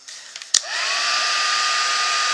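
A heat gun blows steadily as it melts embossing powder on glitter paper, a brief click at switch-on giving way to a continuous, close, loud whooshing hum with a rising whine settling into a steady tone.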